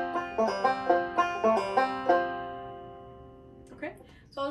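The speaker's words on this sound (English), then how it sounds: "So you're pulling off of the 3rd string using the middle finger" Plucked banjo notes ring out in a quick, evenly spaced series of pull-offs, then fade into a long decay with a brief voice at the end.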